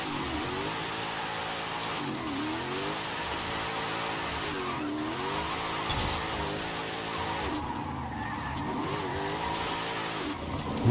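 A V8 race car in Forza Horizon 5 revving and shifting while its tires repeatedly skid and squeal, the engine note rising and dipping in waves, loud and continuous with no talking.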